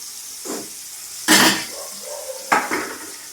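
Tomatoes dropped into a hot pan, giving a few sharp clattering hits and brief sizzling bursts at close range, with no voices.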